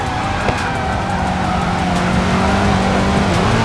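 A Koenigsegg hypercar roars in the Racing Master mobile racing game, its engine note climbing steadily under acceleration with a brief tire squeal, loud and continuous throughout.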